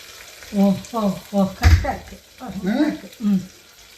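Ingredients for paneer butter masala sizzle in a pan as they are stirred in short repeated scrapes, close and moderately loud, with a voice talking over them.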